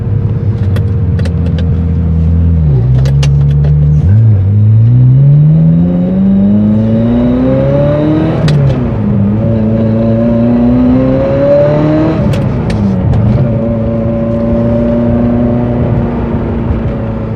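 A BMW E34 wagon drives along with its engine loud and close from inside the cabin, revving up and down through several gear changes with steady road rumble throughout.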